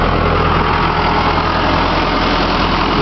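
A 1998 Case 580 Super L Series 2 4x4 backhoe loader in superb condition idles with a loud, close, steady engine drone that holds even and unbroken throughout.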